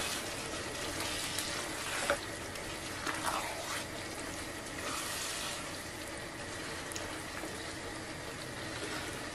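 Food sizzles steadily in a hot pan while being stirred, a dense crackling hiss throughout with occasional brief scrapes and soft clinks of the utensil against the pan.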